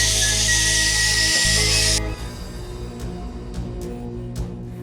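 A kitchen pressure cooker whistles loudly and steadily for about two seconds, then cuts off, leaving a quieter hiss and scattered clatter in the room.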